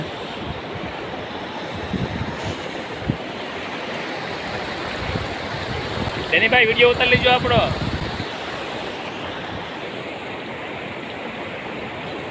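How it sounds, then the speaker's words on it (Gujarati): Broad, steady roar of the flooded Shetrunji river in spate, close and unbroken, with a short burst of speech partway through. "તમે જે આ દ્રશ્ય જોઈ રહ્યા છો તે અમારી શેત્રુંજી નદી છે, એમાં ઘોડાપૂર આવ્યું છે"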